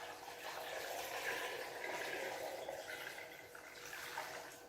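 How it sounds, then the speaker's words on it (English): Water pours steadily into a pot over chicken and vegetables, a continuous close rushing fill with gentle fluctuations and no pauses. "make sure we add water to cover"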